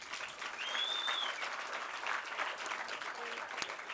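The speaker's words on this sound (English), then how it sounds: "we can give them another round of applause" Steady applause from a crowd at a public event in East Boston fills the clip, with scattered whistles and cheers over the clapping.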